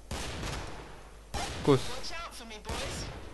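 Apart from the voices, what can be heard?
fireworks being set off in Killing Floor video game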